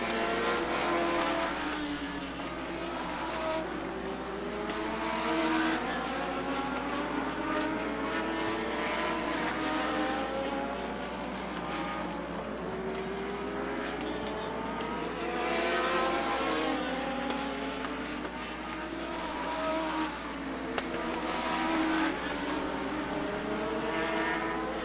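Legends race cars lap Rockford Speedway in a continuous, layered engine roar, several cars close by with pitch sweeping up and down as they pass, steady and loud throughout with no voices.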